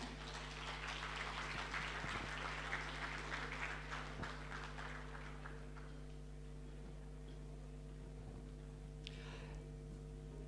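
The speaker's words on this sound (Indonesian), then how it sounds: "Boleh beri tepuk tangan lagi." Audience applause at the IIBF 2022 opening ceremony, a steady wash of clapping for the first few seconds that thins out, over a constant hum of the hall's sound system.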